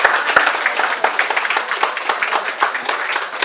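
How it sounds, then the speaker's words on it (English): A smaller audience claps for a panel at a healthcare discussion event, with distinct individual hand claps audible in an uneven, close rhythm that continues steadily. "So let's give a round of applause for the panel."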